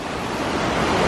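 A river high enough that it cannot be crossed in the evening, on the Pacific Crest Trail between Kennedy Meadows and Bishop near Forrester Pass, roars with loud, steady broadband rushing and wind buffeting, with no speech.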